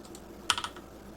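Two quick keyboard key presses on a computer keyboard, the G key tapped twice, crisp and close against a quiet room hum, followed by a faint third click.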